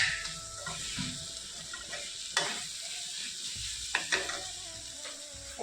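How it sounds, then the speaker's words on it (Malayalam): Onion, garlic and ginger paste fries in a pan, a steady sizzle broken by several sharp scrapes and clinks of the spoon against the pan as it is stirred. "സവോള പേസ്റ്റൊക്കെ ഇളക്കിക്കൊണ്ടിരിക്കുകയാണ്."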